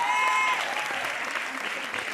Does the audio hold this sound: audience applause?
yes